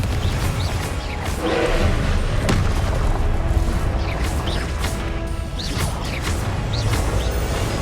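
Confringo fire spell blasts in the Hogwarts Legacy video game, a loud, continuous run of booming impacts and whooshing bursts layered over busy combat effects, with no talking.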